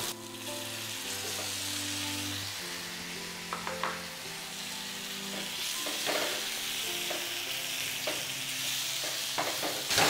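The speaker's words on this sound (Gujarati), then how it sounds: "હવે તેમાં કાપેલું ટમેટું ઉમેરીએ" Chopped tomato goes into hot curd-based tikhari tempering in a pan, setting off a loud continuous sizzle and frying hiss with intermittent stirring clinks and scrapes, close and steady.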